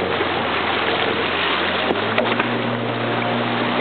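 Motorboat cruising on a river near longhouses, a steady loud engine drone with low tonal hum running throughout, water wash mixed in.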